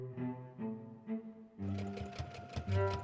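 Sewing machine stitching a dress, its needle chattering in short bursts at first, then in a steadier, faster run, close by and fairly quiet.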